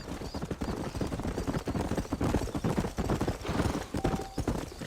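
Horse hooves clip-clopping along a trail in the video game Red Dead Redemption, a continuous brisk rhythm of several horses moving together, close and fairly loud, with a brief whinny.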